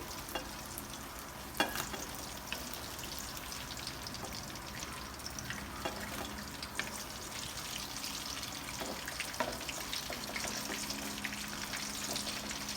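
Eggplant fries in hot oil until golden brown, a continuous close crackle and hiss with a few sharper pops and light clinks along the way.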